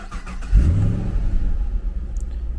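A 2016 Holden Commodore engine cranks and fires at about half a second, then settles into a steady, close, throaty idle with no talk.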